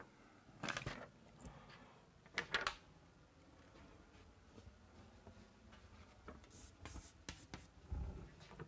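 Chalk or marker writing on a board during an engineering lecture on column buckling, with scratchy taps and strokes in short bursts, faint and close, over quiet room tone.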